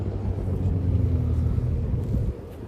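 A Ferrari Roma arriving at a classic car show, its engine a steady low rumble held for a couple of seconds before easing off, with no one talking.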